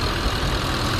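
Audi FSI car engine running at a steady idle, a loud continuous low rumble close by with no talk.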